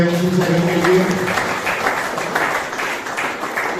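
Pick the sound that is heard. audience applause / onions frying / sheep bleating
audience applause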